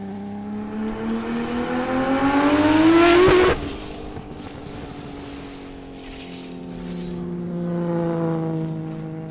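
A stiff race car with adjustable damping accelerates hard, its engine rising in pitch to a loud peak before a gear change, then pulling again, close and continuous.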